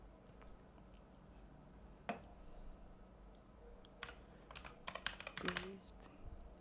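Computer keyboard being typed on, scattered keystrokes in short bursts with a cluster of faster clicks near the end, close and fairly quiet, with a voice speaking softly at times.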